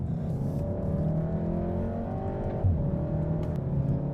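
A 2015 Volkswagen Golf R drives uphill in Bavaria, its engine a steady, continuous drone heard from inside the car, with a brief louder surge near the end and no talking.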